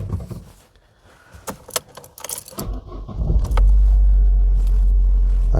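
A 1991 Vauxhall Astra F that has sat parked for four years: keys jangle and a few clicks sound, then the engine cranks and catches, settling into a loud, steady low idle rumble.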